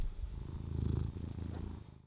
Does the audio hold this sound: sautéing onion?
no